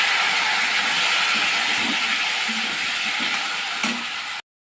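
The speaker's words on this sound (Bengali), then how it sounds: "এখন এই যে কাঁচা কলাটা দিয়ে দেবো, একসঙ্গে ভেজে নেবো" Raw green banana and potato pieces frying together in hot oil, a loud continuous sizzling hiss with a few small pops, which stops abruptly at the end.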